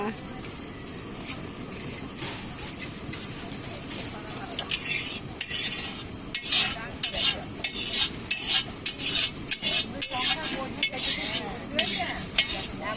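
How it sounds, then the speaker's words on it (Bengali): Meat being stir-fried for kosha in a very hot wok, with repeated metallic scraping and clanking of a spatula over a faint sizzle, as people talk nearby. "রান্না হচ্ছে, মাংস কষা হচ্ছে।"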